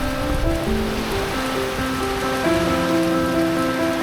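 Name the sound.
heavy rain falling at the beach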